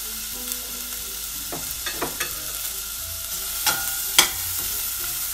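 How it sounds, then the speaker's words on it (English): Onions sautéing in a little oil in a pan, a steady sizzle with several sharp scraping stirs of a utensil, one louder clack near the end. "So I'm gonna saute it first."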